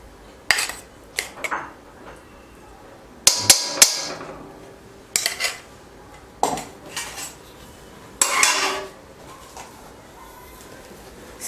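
A metal spoon scrapes and clatters against a pan while ghee is added for making jaggery syrup for sesame laddoos, in sharp, close bursts separated by quiet gaps.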